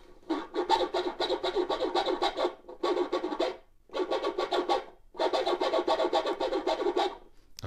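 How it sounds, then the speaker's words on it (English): Record scratching on a spinning-stylus toy record player, with rapid raspy back-and-forth scrapes in four bursts separated by short pauses, loud and close with no voices. "So if you enjoy that scratching sound you hear on some rap songs"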